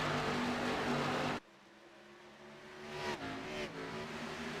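ARCA series race cars roar around the Phoenix track, a loud, dense engine roar that cuts abruptly, followed by cars revving and passing at a distance.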